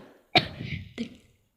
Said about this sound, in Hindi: देखकर खांसी आ गई मुझे।